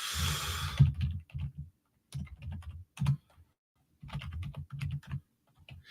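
Short bursts of fast tapping on a computer keyboard come in uneven clusters, with brief pauses of quiet between them. The typing is close and clear, and no voice is heard.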